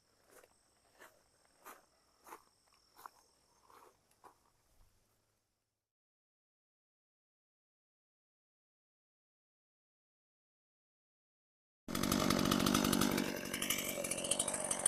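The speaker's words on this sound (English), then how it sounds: "As you can hear, I got the chainsaw started." A chainsaw, started after its choke was reset, roars to life loudly and runs steadily during hand clearing of a slope, following footsteps and a long stretch of silence.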